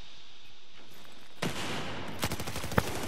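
Rapid bursts of automatic gunfire in Battlefield 4 on the Pearl Market map, crackling in quick succession after a quiet start, loud and close, with a sharp final shot.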